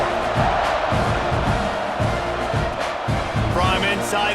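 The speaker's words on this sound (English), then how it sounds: "this crowd is buzzing after that last score" A stadium crowd in a college football video game buzzes after a score, a dense, steady roar with rising cheers and whoops under a commentator's continuous play-by-play.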